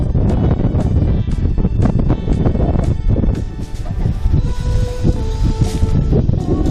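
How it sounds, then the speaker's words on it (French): Strong wind buffeting the microphone, loud and gusty throughout, with rumbling low noise and no clear talk. "Écoutez ce magnifique vent"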